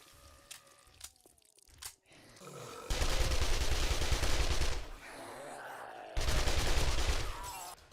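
Automated turrets in the 7 Days To Die survival game fire rapid, dense bursts of gunfire in two loud sustained stretches, preceded by scattered clicks and thuds.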